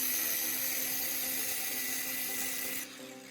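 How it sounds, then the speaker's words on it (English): Angle grinder cutting along marked lines on a tuna can, a steady high-pitched whine and metallic grinding held for about three seconds before dropping off abruptly, close and fairly loud, with no voices. "I'm using an angle grinder to carefully cut along the marked lines on the second can."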